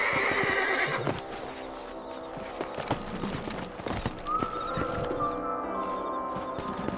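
In a Red Dead Redemption game scene, horses whinny loudly over the steady clip-clop of hooves on a trail, with a few sharper neighs standing out from the trotting rhythm.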